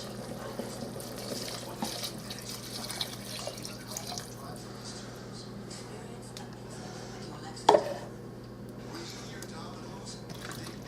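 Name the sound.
pouring beef stock into pressure cooker pot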